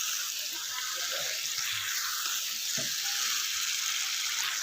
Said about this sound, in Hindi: दो से 3 मिनट छोले ऐड करने के बाद फिर से इसको अच्छे से भून लेना है